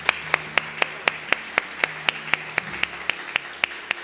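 A church congregation claps in a steady, regular rhythm during a sermon, sharp even beats about four per second over a low hum of background sound.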